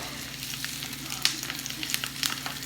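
Homemade Old Bay crab cakes sizzle in a frying pan just after being flipped, giving a steady close crackle with scattered sharp spits and pops.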